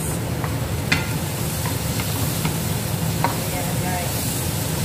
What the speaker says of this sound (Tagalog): Halo-haloin natin guys para hindi didikit ang ating mga sangkap dito sa kawali.